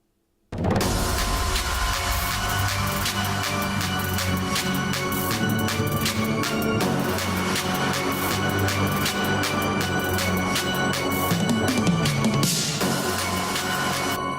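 A dense electronic beat plays continuously and loud, with sharp repeating hits, booming low bass and a bright synth layer, no voices.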